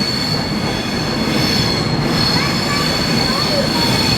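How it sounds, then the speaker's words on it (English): A train runs past on the main line at Carlisle, a steady, loud rumble of wheels on rail with some squealing, filling the whole stretch without pause. "just as there is now, one of the advanced trains going to London"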